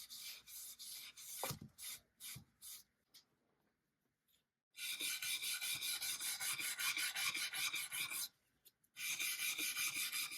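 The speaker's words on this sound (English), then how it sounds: "using wire brush on oak, if you go with the grain, is actually okay, especially if you use brass wire brush." Brass wire brush scrubbing old paint off oak cupboard wood along the grain, loud close rasping strokes in bursts, a pause in the middle and another short gap near the end, no talking.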